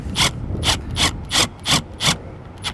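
Black-headed self-tapping screws are driven slowly into the plastic housing of a Furrion Vision S wireless backup camera mount on a 2022 Keystone Passport RV, making six close, evenly spaced scraping clicks with no talking.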